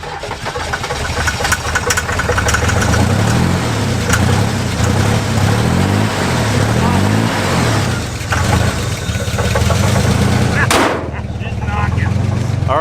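A worn Chevrolet Impala engine idling with a wiped cam and failed hydraulic lifters, a loud, steady, lumpy rumble with rapid rhythmic ticking and knocking throughout.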